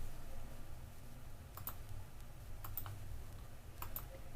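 Soft clicking keystrokes on a computer keyboard while numbers are entered into a spreadsheet, arriving in a few short, quick clusters over a steady low background hum, fairly quiet and close.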